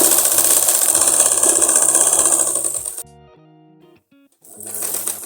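A sewing machine runs steadily, stitching a straight seam on a belt-style salwar, then stops abruptly midway before whirring back up briefly near the end; no talking.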